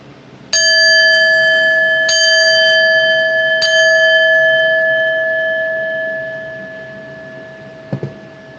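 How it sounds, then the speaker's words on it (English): A chime rung to close an episode on chakras and emotional healing strikes three clear metallic tones in slow succession, each ringing out in a long sustained decay, followed by a faint knock near the end. "We're going to chime out."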